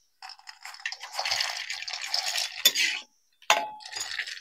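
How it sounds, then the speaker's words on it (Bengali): Fried boondi tipped into sugar syrup in a pan, a close run of light clinking, crackling and scraping for a few seconds, a short pause, then another brief clatter. "এবার আমি এর মধ্যে রসের মধ্যে বোঁদেগুলো দিয়ে দেবো"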